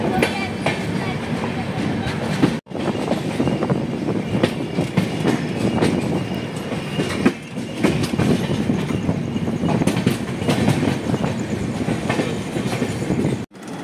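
The Brahmaputra Mail, train 15658, rolls into New Farakka Junction with a loud, close rumble and rhythmic clickety-clack of its wheels. It continues steadily, with brief dips where the sound cuts out.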